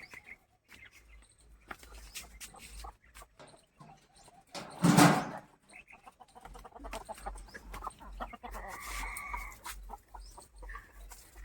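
Hens cluck in short, scattered bursts at a farm in the early morning, nearby and moderate in volume, with one louder squawk midway amid low background rustling and hum.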